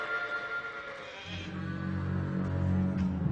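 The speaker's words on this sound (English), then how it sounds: "I've never seen sheep this big before." Very large sheep bleat in an animated series soundtrack, a drawn-out, wavering bleat rising over quieter background sound and holding for about two seconds.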